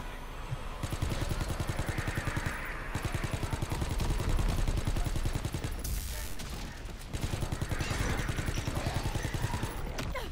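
Rapid, rhythmic gunfire in a WW2 zombies video game rattles on almost without pause, loud and mechanical, with a few short breaks and game noise mixed in.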